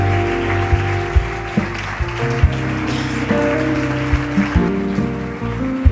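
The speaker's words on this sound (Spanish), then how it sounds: "Dale un fuerte aplauso al Señor" Congregation applause during a church Easter service in Puerto Madryn, steady clapping under sustained music or organ-like tones, with a few louder bursts throughout.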